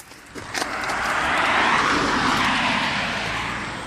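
Oldsmobile Intrigue with a 3.5 liter dual overhead cam V6 and a cutoff exhaust, a steady broad engine roar that swells and holds loud up close, with a few sharp clicks near the start.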